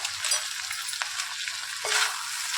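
Broad beans being stirred in a frying pan, a continuous sizzle with soft scraping strokes of the spoon and a brief louder hiss, close and with no talking.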